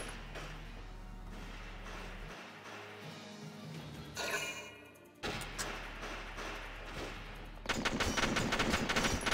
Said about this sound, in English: So see how he had a rapid fire gun?